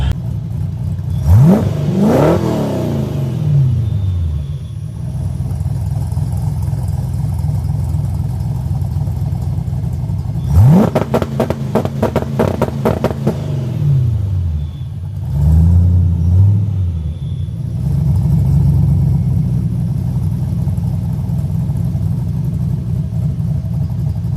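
A 1990 Ford Mustang LX Foxbody fitted with M80 mufflers idles with a loud, deep rumble, then snaps through sharp revs and a crackling two-step burst, followed by more throttle blips and settling idle.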